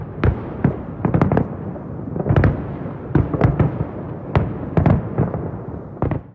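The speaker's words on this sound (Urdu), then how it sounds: "روس میں بھی نئے سال 2022 کو زبردست آتش بازی سے خوش آمدید کہا گیا" Loud New Year 2022 fireworks over Moscow: a steady run of sharp explosive bursts and crackling pops, some close together, with no talking.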